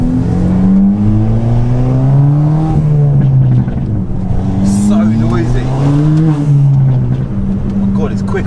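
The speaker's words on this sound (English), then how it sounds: "I'm in a bloody manual sports hatch again, and it sounds amazing" Engine note of a Stage 2 tuned Ford Fiesta ST manual hot hatch on the move, a steady loud drone rising and falling through gears, with someone talking over it throughout.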